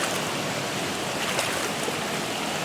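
Waterfall stream water at Amargarh rushing over stones, a dense continuous hiss and splash, close and loud, with no voices.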